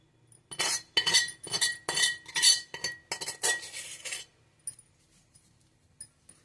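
Amla pickle stirred together with tamarind pulp in a bowl, making a quick run of bright metallic clinks and scrapes, roughly ten close strokes over four seconds that then fade to near silence, with no talking.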